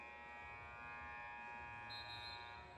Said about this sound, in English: That buzzer means the second half is upon us.